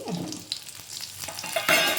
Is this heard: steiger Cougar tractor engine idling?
no